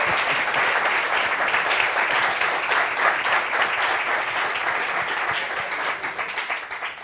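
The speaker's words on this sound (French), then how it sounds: "Applaudissements pour lui." Audience applause for a guest on a French TV talk show set, dense steady clapping from a studio crowd, loud and continuous before thinning slightly at the end.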